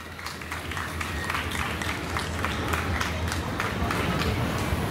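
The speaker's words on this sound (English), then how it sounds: "Let's give her a round of applause" A fair audience claps together in steady, dense applause mixed with crowd murmur, continuous and fairly loud for the whole stretch.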